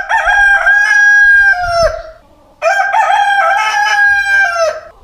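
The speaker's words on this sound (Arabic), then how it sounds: "هاد الديك قبيله دار واحد الصيحه واعره بزاف" A rooster crows loudly twice, each long harmonic call rising and then trailing off, with a brief pause between the crows.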